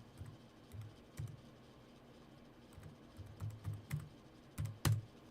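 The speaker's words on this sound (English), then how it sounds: "Typing." Someone is typing on a computer keyboard at a desk, with soft, irregular key clicks arriving in small clusters and a few sharper taps near the end, all faint and unaccompanied by speech.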